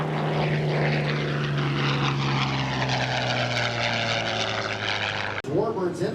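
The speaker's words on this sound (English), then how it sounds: "There's the ME-109. Willie Messerschmitt's famous fighter." A Messerschmitt Bf 109 fighter plane flies past at an air show. Its propeller engine drones loudly and steadily and shifts in pitch as it passes, then cuts off abruptly near the end.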